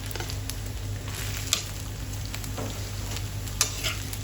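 Steady sizzling of chillies frying in a pan with a low hum beneath, broken by a couple of sharp clinks of a utensil.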